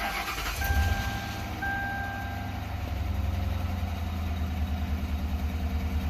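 A 2004 Crown Victoria Police Interceptor engine idles with a steady low, slightly rough rumble, joined early on by a short high warning chime, with no talk over it.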